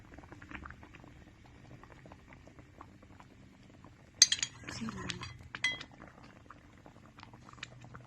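Pork simmers in a pot of water for small-noodle soup, a soft low bubbling with a brief burst of clinks and clatter from utensils and the pot partway through, then quieter boiling again.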